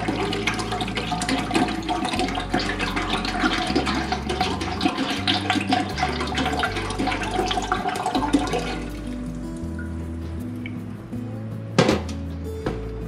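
Organic apple cider vinegar pours from a 33.8 fluid ounce bottle into a cooking pot in a steady liquid stream for about eight seconds, then fades. A single sharp knock follows near the end, over a low tonal background.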